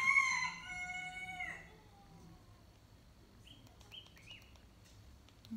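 A rooster crows once, a loud nearby cock-a-doodle-doo at the start that trails off, followed by faint short bird chirps in a quiet background.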